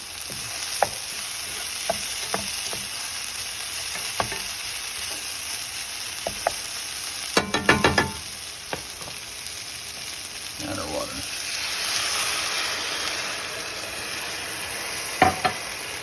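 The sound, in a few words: breakfast burrito filling frying on high heat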